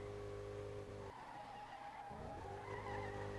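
Car tyres squeal while drifting a Bugatti Veyron with its W16 engine in the Street Legal Racing Redline video game, the engine droning under a sustained skid that briefly drops and then returns, loud and continuous.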